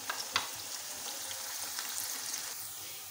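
Onions frying in a pan, a steady bright sizzle and crackle with a few small pops and light stirring, close and continuous with no talking.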